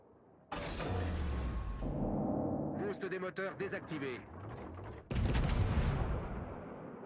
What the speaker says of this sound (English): He's getting broadside shots on the Stalingrad.